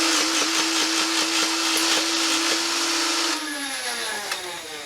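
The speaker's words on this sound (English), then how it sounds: "we're gonna start by firing 10 darts from the hopper onto us" A MatrixFire foam dart blaster firing ten darts from its hopper, a loud steady motor whine with rapid rhythmic dart shots that winds down near the end.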